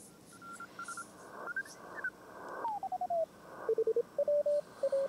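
Morse code tones from a ham radio receiver during a contest, with several stations' CW signals at slightly different pitches beeping in short bursts of dots and dashes over a hiss of band noise, with no talk.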